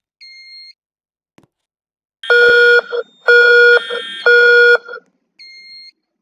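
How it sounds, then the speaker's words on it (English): A fire alarm sounds during a test, giving three loud, harsh electronic bursts of about half a second each. Fainter, higher beeps come before and after them, and nobody speaks. "I'm gonna be testing the fire alarms"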